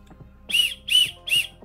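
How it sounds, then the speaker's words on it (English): A small plastic whistle built into a multifunctional shovel and axe tool is blown three times in quick succession, each short shrill toot clear and close, with no talk. "That little whistle built into that."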